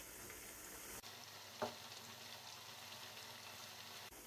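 Chicken pieces fry in a pan for karahi with a quiet, steady sizzle and soft crackling, interrupted by a brief clatter and abrupt cuts, with no talking.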